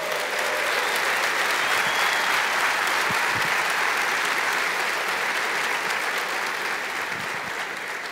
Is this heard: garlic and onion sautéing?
no